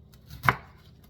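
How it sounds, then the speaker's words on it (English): A knife cuts through a bell pepper in one crisp, close chop on a board, a single sharp thud in an otherwise quiet moment. "And I'm gonna cut my bell pepper maybe like this."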